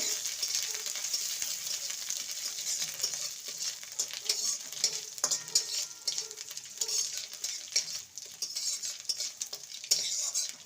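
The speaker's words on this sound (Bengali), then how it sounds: "আদাটাকে ভালো করে ভেজে নেব" Grated ginger fries in a pan over cumin seeds, a steady sizzle under close, repeated scraping and stirring with a metal spoon against the pan, with a few sharper clinks and no talk.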